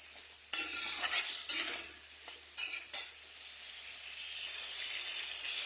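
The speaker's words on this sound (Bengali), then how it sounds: "এটাকে ভালো করে কষিয়ে নেব।" Potato and spices being stir-fried in a pan over medium heat, a soft steady sizzle broken by several sharp spatula scrapes and stirring knocks, close and without talk.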